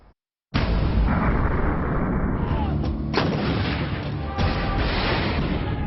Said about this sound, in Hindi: होवित्जर तोप की जो गर्जना है